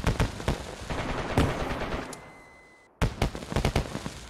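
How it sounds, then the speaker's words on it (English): Rapid bursts of gunfire and a blast in DayZ, sharp cracks in quick clusters, then a fading tail, a brief cutoff of sound and another volley of shots, all loud and close. "that was an explosion"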